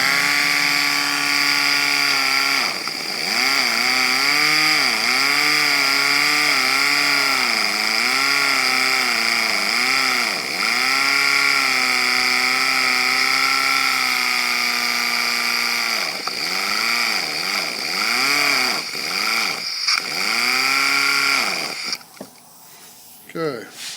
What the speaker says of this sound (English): So we'll have to notch these rubber hoses with a Whizzer wheel.